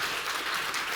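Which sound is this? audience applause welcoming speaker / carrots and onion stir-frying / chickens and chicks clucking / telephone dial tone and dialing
audience applause welcoming speaker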